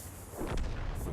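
In a tank video game with an AMX 13 57, a single artillery shell lands nearby with one low, muffled boom and a rumbling tail.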